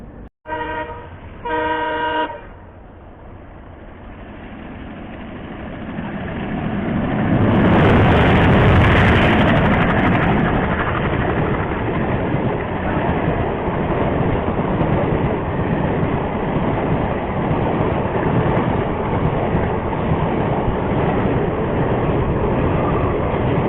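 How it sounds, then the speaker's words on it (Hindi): Saryu Yamuna Express passenger train passing in monsoon conditions, preceded by two short horn blasts, then a loud, steady rumble of wheels and carriages that swells near and continues for about fifteen seconds. "वहाँ पे देख सकते हैं ट्रेन आ रही है।"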